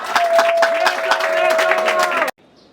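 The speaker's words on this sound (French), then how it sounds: "Les mamans ont exprimé leur joie par des applaudissements nourris" Mothers at a political meeting applaud enthusiastically in dense, steady clapping mixed with cheering voices and a sustained sung tone, cutting off abruptly near the end.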